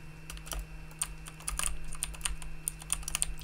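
A computer mouse is being reverse drag clicked while gaming, giving a rapid, irregular burst of sharp plastic clicks close to the mic over a steady low hum.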